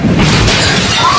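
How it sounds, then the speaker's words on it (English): A giant wave slams against restaurant windows, a loud, sustained crash with glass rattling and shaking for over a second. "It wasn't a cup, but a giant wave."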